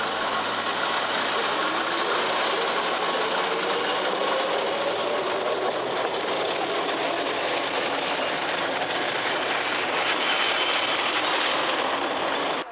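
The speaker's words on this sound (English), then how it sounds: "In Pavlodar, a thematic tram was put into operation to mark the start of Euro 2012." A themed tram running through Pavlodar, Kazakhstan, with a continuous rolling rumble of wheels on rails, faint rhythmic clatter and a thin wheel squeal, all fairly close and steady throughout without speech.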